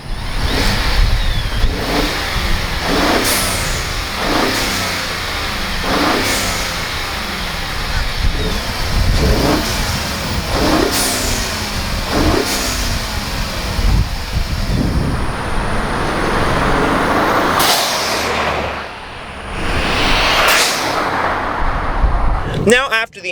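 A Ford F-150 EcoBoost truck fitted with a Turbosmart intercooler and blow-off valve is driven, its engine surging repeatedly, with sharp turbo blow-off bursts and whooshes between pulls. Loud, rhythmic revs run throughout, and a voice talks in places.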